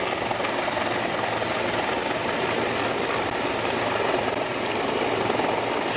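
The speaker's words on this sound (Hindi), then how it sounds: "हेलीकॉप्टर के जरिए।" A helicopter showering flower petals on kanwariya pilgrims flies overhead, its rotor and engine a steady, loud wash of noise throughout with no voices.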